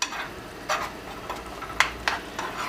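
Lasagna filling with onions cooking in a pan, a soft steady sizzle under light scraping stirs and a few sharp utensil taps against the pan.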